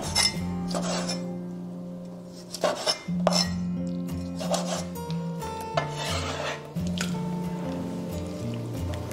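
A knife scoring a squid head on a cutting board makes repeated rasping scrapes and light clinks, close and fairly loud, set against a steady kitchen hum.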